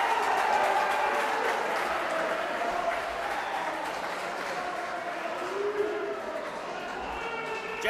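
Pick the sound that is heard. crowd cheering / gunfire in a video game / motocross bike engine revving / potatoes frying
crowd cheering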